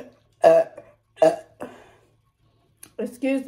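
A burp follows a drink of Canada Dry ginger ale, one of several short throaty bursts spread across a few seconds, close and fairly loud, with a voice around them.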